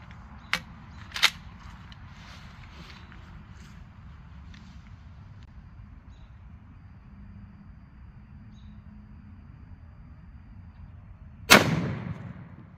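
A 12-gauge shotgun firing a Winchester Defender slug at a target about 15 feet away: one loud, close blast near the end with a short decaying tail, after a long quiet stretch with a couple of faint clicks.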